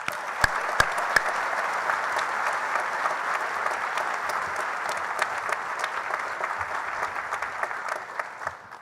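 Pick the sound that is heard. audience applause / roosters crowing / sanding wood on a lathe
audience applause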